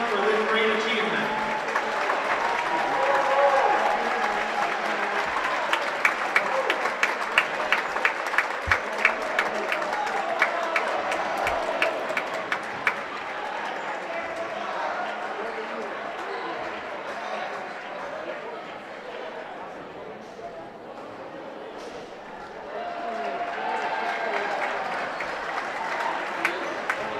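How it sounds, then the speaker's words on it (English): Sustained crowd applause and cheering fills a gym at a girls high school volleyball match, Lakeland Thunderbirds at Mosinee, loud and steady with scattered sharp claps and whoops before tapering off and swelling again near the end. "Please join in giving Lisa a round of applause for this great achievement"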